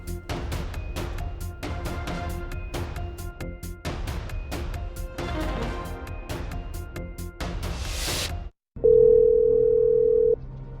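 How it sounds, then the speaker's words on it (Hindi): A phone line's dial tone sounds before a call: a dense run of rapid clicking and crackling static gives way to a short gap, then a loud steady continuous hum held for about two seconds. "सीएम धामी ने शिकायतकर्ताओं से फोन पर बातचीत भी की है।"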